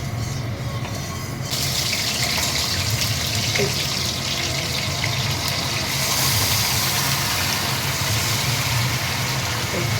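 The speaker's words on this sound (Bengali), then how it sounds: "তেল গরম হয়ে গেছে, এর মধ্যে আমি এবার চিকেনটা দিয়ে দেবো।" Chicken hits hot oil in a wok, setting off a loud, continuous crackling sizzle that grows brighter after a couple of seconds and carries on evenly to the end.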